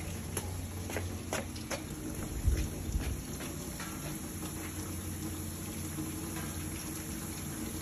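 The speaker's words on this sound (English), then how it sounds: "Been running the water about 2 or 3 minutes." Water from a hose pours through a roof drainage setup, giving a steady, continuous splashing and trickling with a few louder splats and no talk.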